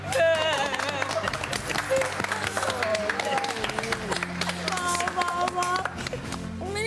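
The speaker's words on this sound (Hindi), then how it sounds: "तालियां।" Applause from a crowd in a Hindi TV comedy scene, sustained clapping with music playing over it and voices talking throughout.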